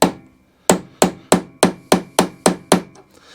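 Nine sharp metal-on-metal hammer strikes on a small punch drive a roll pin out of a Viking lawn mower's drive, spaced evenly about a third of a second apart, close and loud, with no talking.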